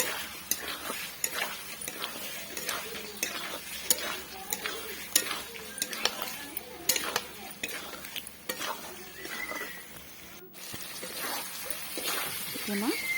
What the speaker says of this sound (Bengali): আবারও সবগুলি কষে নেব